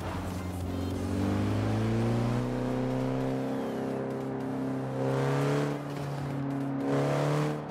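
A car engine revs and drones in Forza Horizon 4, with a steady tonal whine that rises and falls in pitch as the car accelerates, loud and close throughout with no talking.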